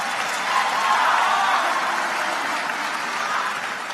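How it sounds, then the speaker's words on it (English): An auditorium audience applauds students at a conference opening session, a dense, steady wash of clapping that swells slightly and holds for several seconds. "One more round of applause for these awesome students from Little Rock Central High School"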